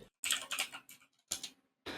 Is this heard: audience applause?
no